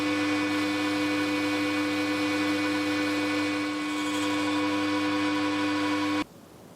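A machine plunge-cuts a groove with a 2mm wide blade, giving a steady, loud, tonal whine with a constant hum that holds for about six seconds before cutting off abruptly; no voices.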